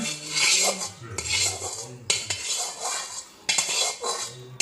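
A spoon scrapes and clinks against a bowl while stirring lemon pickle mixed with turmeric, salt, red chilli powder and oil tempering, in steady repeated strokes, close and fairly loud with no talking.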